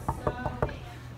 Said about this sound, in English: We're still knocking.